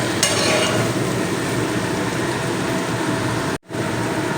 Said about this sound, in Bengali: এবারে মশলাটা দিয়ে দিলাম সবজির মধ্যে দিয়ে কিছু সময় নাড়াচাড়া করে কষিয়ে নিতে হবে